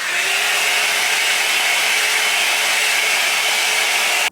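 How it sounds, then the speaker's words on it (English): A blow dryer blows steadily on glued wig lace, a loud, close, continuous whooshing roar that cuts off abruptly at the end. "for it to get tacky, I'm going to use the blow dryer."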